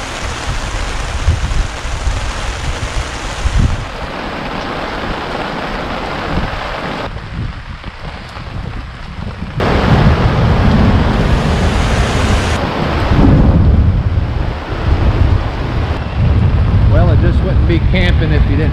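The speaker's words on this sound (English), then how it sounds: "Let me throw a severe thunderstorm at you." Heavy rain pounds down in a severe thunderstorm at a creekside campsite, a loud dense wash of noise that drops briefly, then surges back stronger, with possible thunder mixed into the roar.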